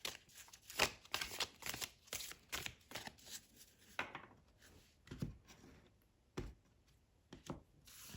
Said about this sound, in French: on va tirer une petite carte